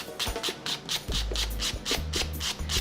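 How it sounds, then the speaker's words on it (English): Sandpaper rubbing around a roller skate wheel in quick back-and-forth strokes, a close, rhythmic scratchy rasp repeating about every quarter second, with no talk. "take your sandpaper and just do a light sand all the way around the wheel"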